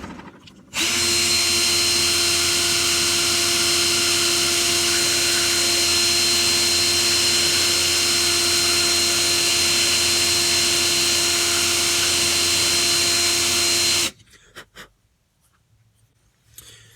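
Rotary tool with a grinding stone bit whining at high speed while trimming the lip of a PVC pipe, a loud, steady, close buzz for about thirteen seconds that stops abruptly, followed by faint handling noises.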